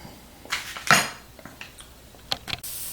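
Metal utensil scraping and clinking against a Ninja cooking system pot set on high stovetop heat while butter melts, a few sharp scrapes and taps with quiet gaps between them.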